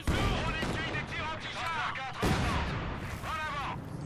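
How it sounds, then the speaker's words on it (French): Anti-tank and heavy machine gun fire in the video game Company of Heroes 2, repeated booming shots and rattling bursts layered over battle noise, with someone talking excitedly over the gunfire. "Mitrailleuse lourde! On essuie des tirs"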